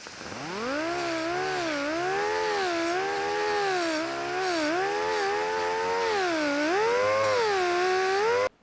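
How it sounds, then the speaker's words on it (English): An angle grinder cutting a groove into stainless steel exhaust pipe for a custom repair, producing a loud, continuous whine whose pitch rises and dips as the load changes before cutting off abruptly. "When you're doing this kind of grinding, you got to be careful. You can't be touching on the stainless pipes with your grinder"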